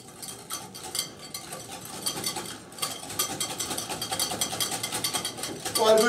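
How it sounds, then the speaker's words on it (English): Two whole eggs, an egg yolk and sugar are whisked together in a bowl for custard for an Alsatian apple tart, giving a steady, rapid scraping and tapping rhythm that builds slightly toward the end. "I'm going to mix that together."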